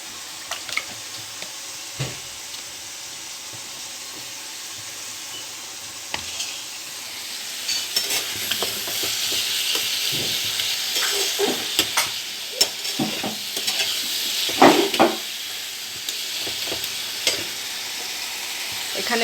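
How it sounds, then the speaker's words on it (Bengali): Red amaranth greens (lal shak) fry with a continuous hiss, and a stirring spoon scrapes the pan now and then. The sizzle and stirring grow busier in the second half, with a few sharp taps against the pan. No voices. "এখানে একটু লাল শাক ভাজা হচ্ছে।"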